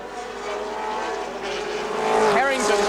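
Touring cars racing in Group C at the 1984 Symmons Plains ATCC round, a continuous engine drone with a pitch sweep near the end as a car passes close, louder toward the finish, with commentary nearby.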